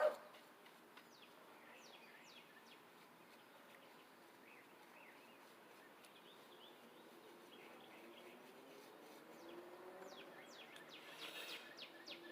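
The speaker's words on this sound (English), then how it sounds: "Beautiful birds." Outdoor birds chirp and twitter at a distance, scattered thin calls over a faint, steady background hiss, growing a little busier toward the end.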